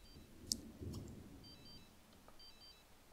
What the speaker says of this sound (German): Oh, jetzt wird sie angerufen, oder wie?